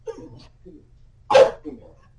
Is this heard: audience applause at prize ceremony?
no